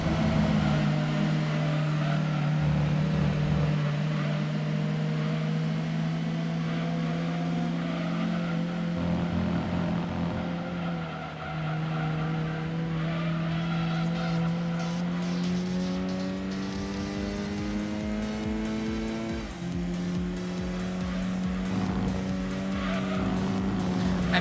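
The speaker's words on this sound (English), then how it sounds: "I can hear that guy buttoning off his throttle just to stay behind me." Race car engines from Gran Turismo 2 drone and whine through a long stretch, pitches shifting as an opponent car just behind eases off the throttle, loud and continuous with no speech.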